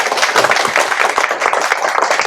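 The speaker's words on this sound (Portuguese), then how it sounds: "Uma salva de palmas para vocês, por favor" Lecture audience applauding at the close of a talk, a dense, steady patter of many hands clapping close by for a couple of seconds with no voices on top.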